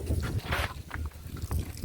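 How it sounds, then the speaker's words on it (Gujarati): Wind buffeting the microphone outdoors along a green rural road to a farm after rain, gusty low rumbling bursts that rise and fall over a couple of seconds, with no talking. "પવન ચાલી રહ્યો છે"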